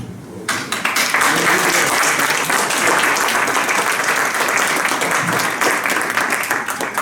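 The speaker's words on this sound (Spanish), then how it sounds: "and we must applaud them" Sustained audience applause fills the room after a speech at a bilingual Spanish-English discussion event, dense and steady clapping that starts abruptly and holds loud throughout, with no talking over it.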